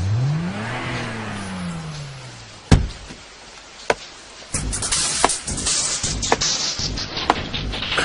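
Taxi car engine in a drama sound effect: a motor whines upward, then settles into a steady whir. Sharp clicks and taps follow, under a busier, rumbling engine wash.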